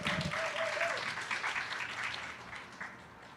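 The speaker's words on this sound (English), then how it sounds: "Can you guys please give a round of applause to Abdi Soufe for him to come speak?" A crowd at a Somali Independence lighting ceremony applauds a speaker named Abdi Soufe, a dense, steady wash of clapping that fades slightly toward the end, with a brief tone near the start and no talk.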